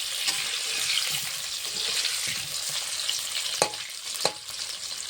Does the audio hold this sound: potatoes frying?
yes